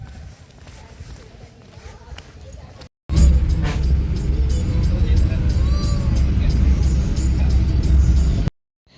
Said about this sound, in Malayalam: കാഞ്ഞങ്ങാട് നിന്ന് വീട്ടിലേക്ക് ഇന്ന് ഓട്ടോറിക്ഷയിലാണ് പോകുന്നത്.